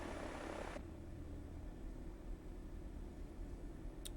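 Steady, low broadband drone of a DA62 twin-engine aircraft in the X-Plane 11 flight simulator, a constant engine hum with a brief brighter burst at the start and no talk.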